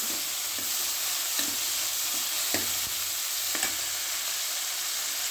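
Tomatoes cooking in a pan, a constant sizzle broken by several sharp scrapes and knocks of a masher or spoon pressing them down, with no voices.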